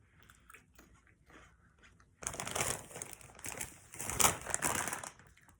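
Someone bites into salty butter popcorn, a few soft crunches at first, then louder close-up chewing with crisp crackling bursts.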